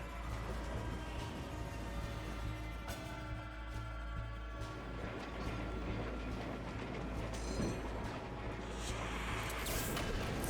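A ghost train in the Hard West 2 video game rumbles steadily and heavily, with a repeating low clatter and occasional sharper knocks throughout. No one talks.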